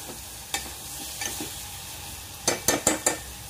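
Drumstick pods (shevga) being sautéed and stirred in a pan for a Maharashtrian home-style dish, with a low frying hiss under scattered spatula scrapes and a quick cluster of four knocks against the pan near the end.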